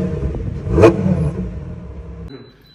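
A Lamborghini engine revving in Dubai, a single sharp rev that rises, then fades into a fading rumble before dropping away, heard close and loud with faint voices around.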